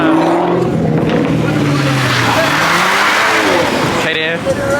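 A BMW revs hard at a car meet, a loud, close engine roar rising and falling in pitch with tire noise, while people shout and talk over it.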